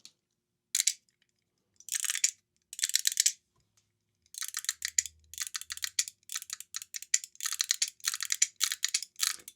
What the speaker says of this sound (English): the Buckyball is going to shine more because you're going to get a louder sound out of this